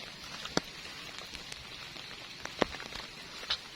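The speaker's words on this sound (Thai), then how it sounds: "ฝนตกละ" Rain falls in the rural Lao countryside as a faint, steady hiss, with a few louder drops ticking now and then.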